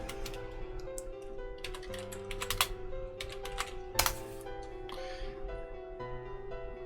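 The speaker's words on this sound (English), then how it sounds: "I'm going to type in Lazy Newb Pack." Computer keyboard typing for a software search, a close run of clicky keystrokes in irregular bursts with a couple of sharper louder taps, under a steady background hum.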